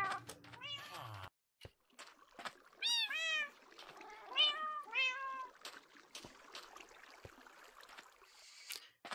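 Cats in the Minecraft video game meow repeatedly in short, rising and falling calls, several overlapping at moderate distance, with small clicks and game sounds between them.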